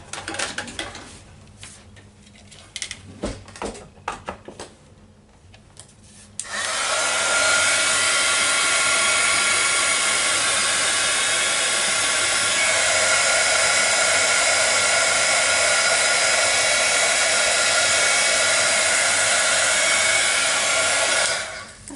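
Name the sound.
heat gun drying stamped ink on card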